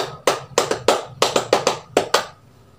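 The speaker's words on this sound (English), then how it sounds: "let's give a military clap for everyone." A class claps in a patterned military clap, about a dozen sharp close hand claps in a rhythmic sequence of groups, ending in a brief silence.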